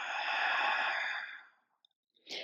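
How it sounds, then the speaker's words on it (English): A long, breathy open-mouth exhale during yoga breathing, close and soft, fades out over about a second and a half, followed by a brief quiet intake of breath. "And taking a big open mouth exhale."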